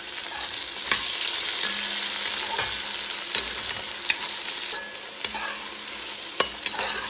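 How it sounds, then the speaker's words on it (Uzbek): Carrots and bell peppers fry in a cauldron with a steady close sizzle, broken by periodic clacks and scrapes of stirring and a few sharp knocks. "Bolgarskiy chesnoklarimizni ham birgalikda solib qovurib olamiz."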